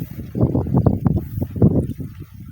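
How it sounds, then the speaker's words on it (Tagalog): Strong gusts buffet the microphone in low, rumbling bursts, rising and falling unevenly through the short stretch. "Lakas ng hangin."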